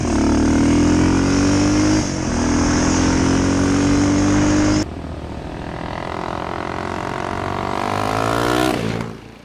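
A 1976–1981 Yamaha XT500 single-cylinder thumper engine revving loudly and close, its pitch climbing, with an abrupt change midway to a quieter run that rises again before cutting off.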